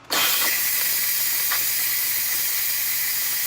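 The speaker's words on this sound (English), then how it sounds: "And I'm going to go let the pressure out." A quick cooker used for chocolate steel cut oats releases its pressure in a loud, continuous steam hiss that bursts on after a brief silence and holds steady to the end.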